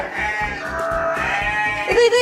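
A goat being pulled along by a herder lets out a loud, drawn-out bleat close by, wavering continuously for about two seconds.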